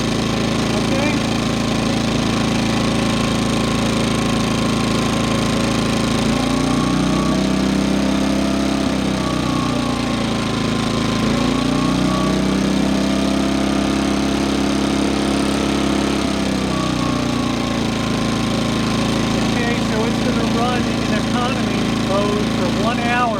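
Steady drone of a new portable generator running through its first-hour break-in with a side panel removed, a continuous close engine hum with slight shifts in pitch and load, and a voice talking over it.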